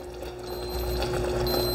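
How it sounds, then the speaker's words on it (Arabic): A kitchen thermometer alarm beeps as caramel reaches 105 degrees, a thin, steady electronic tone sounding over a constant low kitchen hum. "اعطاني انذار ميزان حرارة انه وصل لدرجة حرارة"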